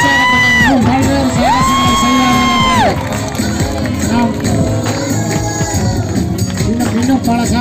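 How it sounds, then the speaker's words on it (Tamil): Audience cheering and whooping at a women's Kyokushin karate demonstration, a loud, steady crowd roar with shouts throughout and a tonal voice or whistle sweeping over it early on. "உங்கள் கைத்தட்டலை கொடுத்துக் கொண்டே இருங்கள்."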